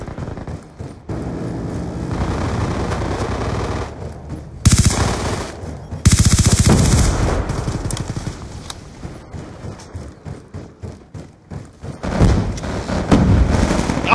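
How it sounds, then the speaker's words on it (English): Sentry gun in a video game fires through a wall in loud bursts of rapid gunfire, broken by brief pauses and sharper blasts, with dense clattering shots continuing throughout. "sentry gun through the wall"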